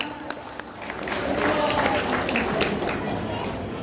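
An audience at a live stage show with a magician claps, a dense wash of many hands that swells after the first second and holds steady, with voices talking over it.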